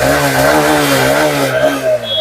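Second-hand motorcycle at a used-bike showroom near Kolkata, its engine revving up and down in smooth rising and falling swells, close and loud, with no talking.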